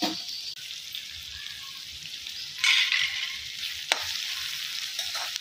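Curry leaves fry in a pan, giving a soft, steady sizzle with a sharper crackling burst partway through and a brief clink near the end.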